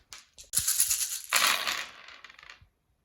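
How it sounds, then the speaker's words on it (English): A handful of dice clatters onto a tabletop during a Warhammer 40k game, a close, bright rattling burst that tumbles and settles over about two seconds, with no voices. "dropping lots of dice"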